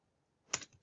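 A short burst of computer keyboard typing, a quick flurry of key clicks after near silence, close and moderately loud.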